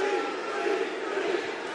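A wrestling crowd roars and chants at a House of Glory wrestling event, a brief, distant-sounding swell of massed voices with no clear rhythm.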